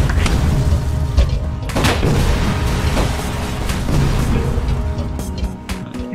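Gunfire and heavy booms from a Linux indie video game, dense and continuous with repeated sharp blasts over a loud, steady game soundtrack, with no talking.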